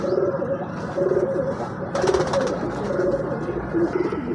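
Pigeons at a bird market in Lahore coo in repeated low, throaty phrases, close and steady over a dense background of other birds and bustle, with no voices.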